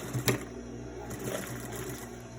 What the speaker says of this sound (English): So stitching right across the long edge.